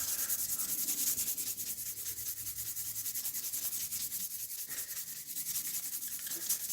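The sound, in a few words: sanding a knife blade with 600 grit abrasive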